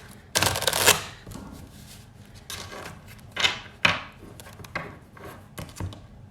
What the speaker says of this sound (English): Now we're gonna cut the deck.